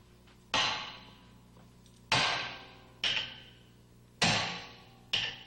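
A large hammer strikes a spanner to tighten the casing tip on a Grundomat P tool: five sharp metallic blows at uneven intervals, each ringing and decaying before the next.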